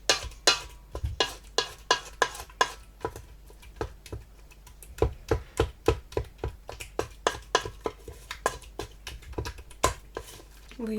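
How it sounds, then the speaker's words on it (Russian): A utensil mashing and stirring a mixture in a bowl with vegetable oil to break up lumps, a rapid series of sharp knocks and scrapes in uneven rhythm, close and fairly quiet. "Перемешиваем и еще раз потолчем, чтобы все комочки разошлись."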